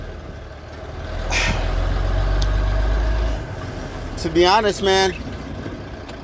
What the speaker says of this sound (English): I'm gonna pull my truck right here and just finish what I was saying